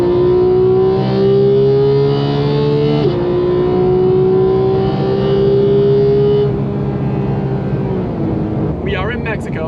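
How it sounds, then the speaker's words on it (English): A Porsche 991.2 GT3 on a road in Mexico dropping from seventh gear and accelerating hard, a loud close engine note that climbs, jumps pitch with each downshift and keeps rising before a final shift near the end. "say I just want to punch it, this thing will downshift like crazy."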